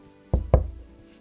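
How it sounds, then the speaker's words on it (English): Two firm, close knocks on a door, struck about a quarter second apart as a sound effect in a stage play of Winnie the Pooh, followed by a short hollow ring-out. "Of a sudden, there came a knock on the door."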